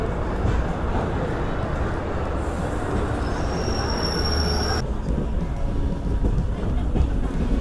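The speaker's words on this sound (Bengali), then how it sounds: "আমাদের ট্রেন কলকাতা স্টেশন থেকে ছেড়ে চলছে এনজেপি স্টেশনের উদ্দেশ্যে" A passenger train runs out of Kolkata station toward New Jalpaiguri, with a steady loud rumble of wheels on track and a high metallic wheel squeal partway through, no speech heard.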